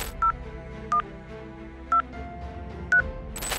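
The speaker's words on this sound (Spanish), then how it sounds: "Ese tono suena a alguien pulsando la tecla del teléfono." Telephone keypad buttons being pressed during a phone call, producing four short, evenly spaced DTMF beeps, clear and isolated over a faint background hum.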